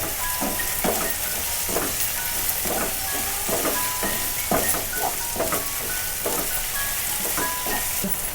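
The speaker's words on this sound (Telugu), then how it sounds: "ఉల్లికాడలు వేసుకొని అంతా ఒకసారి కలుపుకోవాలి" Spring onions added to ginger-garlic paste in a hot pan, sizzling steadily under repeated scraping stirs of a spatula against the pan, close and continuous with no talking.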